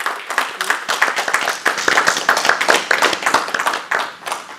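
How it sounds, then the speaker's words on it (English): An audience at a housing policy panel event applauds the panelists with steady, dense clapping for several seconds, lively and close. "let's give a round of applause to our panelists."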